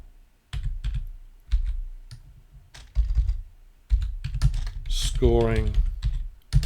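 Keys on a computer keyboard are typed in short bursts of quick clicks, close and fairly soft, separated by pauses, with someone speaking briefly near the end.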